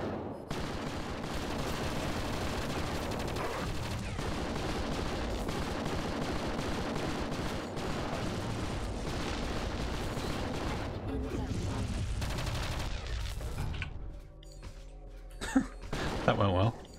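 Turret gunfire rattles in the PC video game Project Eden, dense continuous automatic shots and booms for most of the stretch, then fading to scattered clicks near the end, with a player's voice speaking over it.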